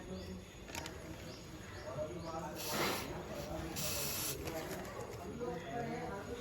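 Chain lube sprays in short hissing bursts onto a motorcycle chain, several brief spurts close up over a low steady background.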